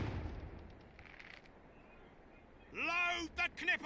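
In the Sea Dogs video game, a ship's cannon broadside ends in a deep, decaying boom at the start, followed by a quieter lull before a voice speaks.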